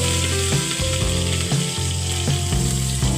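Mustard seeds, dry chillies and curry leaves sizzle loudly in about three spoons of hot oil, a steady close frying hiss with faint rhythmic clinks from stirring.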